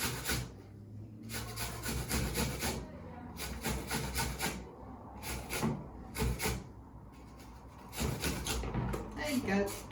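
Apple being grated for mincemeat with the peel left on, heard as repeated rough rasping strokes against a grater in close, rhythmic bursts, with a voice talking quietly underneath.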